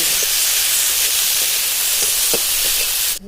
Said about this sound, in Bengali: এবার নেড়ে নেড়ে 3 থেকে 4 মিনিট মতো একটু ভেজে নেব।